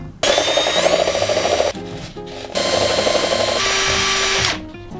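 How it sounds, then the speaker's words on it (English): A power drill whines loudly as a hole-cutting bit grinds through material, pausing briefly midway before running again and spinning down. "I'll be using my crappy drill, along with this circular bit"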